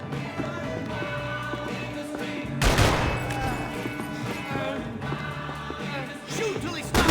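Dense gunfire rattles through a firefight in the video game Max Payne 3, with a loud, chaotic burst of shots near the middle over continuous action noise and music, while voices shout under it.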